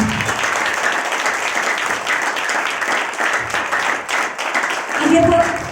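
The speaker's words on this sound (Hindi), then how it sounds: "ताली बजा के ओदा धन्यवाद करिए।" Church congregation clapping in thanks during a prayer service: sustained, even crowd applause filling the whole stretch, with a faint voice rising near the end.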